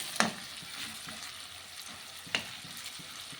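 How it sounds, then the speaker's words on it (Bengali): Potatoes and dried lentil dumplings fry in a generous amount of hot oil, giving a steady, soft sizzle with a few sharp clinks or stirring scrapes, heard up close with no talking. "আলু, বড়ি এগুলি একটু বেশি করে তেল দিয়ে ভাজতে নিতেছি।"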